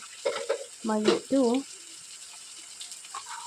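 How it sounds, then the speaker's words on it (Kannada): Onions frying in oil over low-medium heat while making raw mango chitranna, a steady soft sizzle running under a brief stretch of speech at the start. "ಸ್ವಲ್ಪ ಹೊತ್ತು ಅಂದರೆ ಈರುಳ್ಳಿ ಆಗೋ ತನಕ ಹುರ್ಕೋಬೇಕು"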